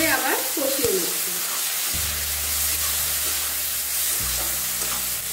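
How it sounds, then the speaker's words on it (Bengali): Tomatoes, green chili and salt being sautéed and stirred in a pan make a continuous hiss and sizzle with scraping stir strokes, and a low steady hum sits underneath. "এবার সব কিছু ভালো করে আবার কষিয়ে নিচ্ছি"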